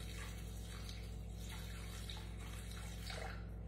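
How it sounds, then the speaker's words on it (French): Water pours steadily into a Thermomix mixing bowl on its scale while sandwich bread is prepared, a soft continuous splashing trickle with a low steady hum beneath, close and fairly quiet. "je vais mettre mes 250 g d'eau"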